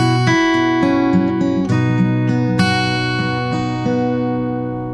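An acoustic guitar plays a melody on open and fretted strings, with notes plucked one after another and left ringing. It sounds bright, full and close.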